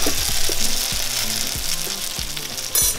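Gnocchi fry in a hot pan of butter and olive oil, a steady close sizzle with a few knocks and stirring scrapes, and a sharper burst of spitting near the end.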